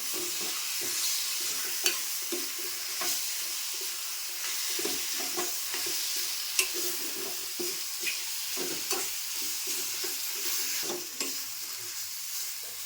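Liver sizzles steadily in a hot pan while a utensil stirs and scrapes in irregular strokes, with occasional sharp taps against the pan.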